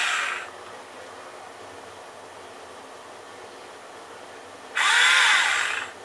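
A small drill built from a kit whirs briefly at the start, then after a quiet stretch spins up again, louder and close by, with a high buzzing whine.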